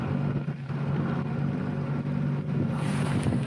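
Steady, dense rumble of an SAR jet ski motoring across water toward a steep underwater drop-off, a continuous engine drone with wash and wind noise throughout and no talking.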